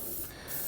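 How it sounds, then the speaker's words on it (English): Inox lubricant sprays in a short, close hiss onto vehicle bolts during a light vehicle service, with a brief dip partway through. "again spray plenty of inox on here so it doesn't rust away on you"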